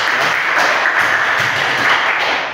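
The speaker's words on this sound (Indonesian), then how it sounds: "Kita tepuk tangan buat Jennifer." A classroom audience of students applauds a presenter after a class presentation, producing a steady, dense wash of clapping that stays loud throughout and tapers slightly at the end.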